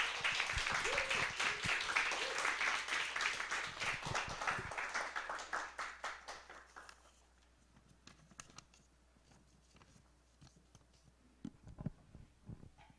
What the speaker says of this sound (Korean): 다 같이 큰 박수로 맞아주시기 바랍니다.